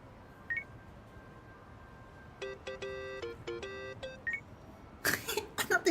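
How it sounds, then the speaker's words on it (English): A phone ringtone in Yakuza: Like a Dragon set to the Dragon Quest tune, a short run of clean, bright electronic melody notes in quick groups, preceded by a couple of soft chirps and followed by louder noisy bursts. "Not the Dragon Quest ringtone."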